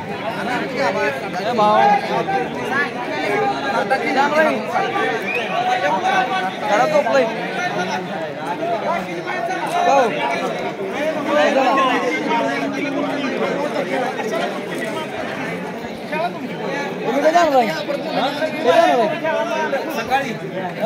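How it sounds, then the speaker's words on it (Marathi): Dense crowd chatter fills a night cricket match at Kale, many voices overlapping into a continuous loud babble with occasional nearer voices rising out of the hubbub throughout. "गर्दी बघ क्या आहे."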